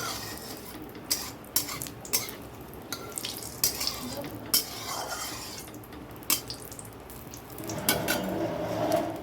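Oil sizzles in a pan with cumin seeds, bay leaf and dried chilli for chicken, a steady broadband hiss with scattered clinks and scrapes of a utensil against the pot, louder near the end.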